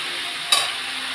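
Cabbage frying and being stirred in a pan for a fish-head cabbage ghonto, a steady sizzle with one brief scrape of the spoon midway, close and fairly loud, no voices.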